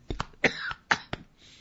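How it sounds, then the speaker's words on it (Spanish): A few sharp coughs and a throat clearing from a radio host in a quiet studio, close and fairly soft, spaced in quick bursts. "Díganme algo para mi tos."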